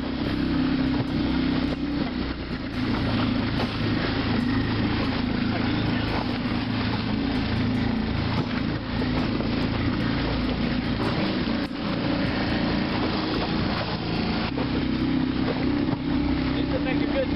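A small dinghy fitted with a dodger motors across rough water during a cold northeaster, out toward a moored sailboat; a steady outboard drone and hull slap run throughout, with a voice speaking over it at times.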